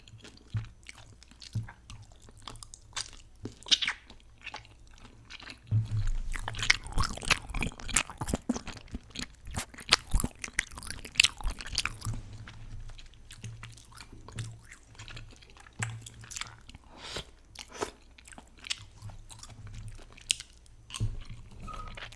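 Fish cake from a bowl of malatang is chewed close to the mic, with soft wet squishes and bites repeating in an uneven rhythm that grows busier partway through. No one speaks.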